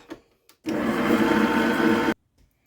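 An electric mixer creams butter and sugar for a lemon cake batter, giving one steady, loud whirring drone of about a second and a half that starts and stops abruptly.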